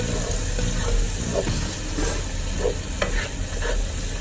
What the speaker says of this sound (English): So you just dump in your spinach, let that fry with the onions.